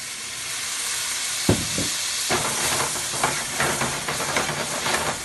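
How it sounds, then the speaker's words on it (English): White wine poured into a hot pan to deglaze it while making carbonara: a steady background hiss, then a sudden loud burst of sizzling steam that keeps spitting and crackling unevenly to the end. "I will then deglaze with a little bit of white wine"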